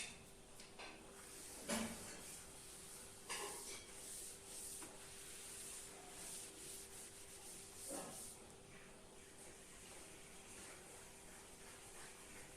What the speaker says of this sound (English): I will rub out the top part.